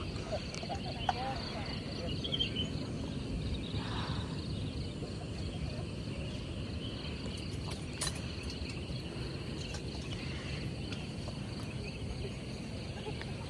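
Morning at a hillside campsite near Bogor, with a steady wash of insect chirring and scattered birdsong over soft wind and a faint background hum, all at an even, moderate level.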